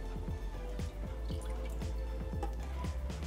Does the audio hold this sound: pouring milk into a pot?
yes